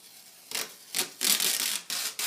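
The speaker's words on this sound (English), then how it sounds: "We'll grab it here, pull it straight up off itself." Aluminum duct tape peeled off the mandrel of an 1878-style Edison tinfoil phonograph, several short ripping, rasping bursts in quick succession, close and fairly loud, with no talk.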